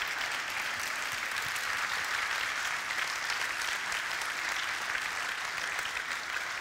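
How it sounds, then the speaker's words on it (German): Conference audience applauds after a reading by a futurist keynote speaker, a broad, even wash of many hands clapping, heard faintly and at a distance, continuing steadily without voices. "Bitte einen großen Applaus an diese wunderbare Lesung."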